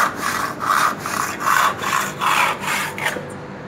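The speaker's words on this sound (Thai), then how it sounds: "หลังเลื่อยจบค่อยๆจะขาดแล้วต้องค่อยๆประคองไม่งั้นเดี๋ยวเนื้อไม้มันจะฉีก" Hand saw cutting through a wooden board with steady back-and-forth strokes, roughly eight rasping pulses close up before the final cut slows and the wood is eased apart, no voices.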